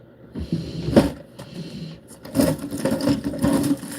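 A cabinet is opened and rummaged through, producing close wooden knocks, rattles and scraping shuffles in uneven bursts, with no speech.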